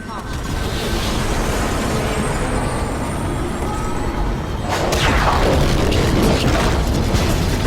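Explosive impact striking a ship in the Titanfall video game: a loud, sustained roaring rumble that surges into a heavier burst partway through, with faint voices underneath.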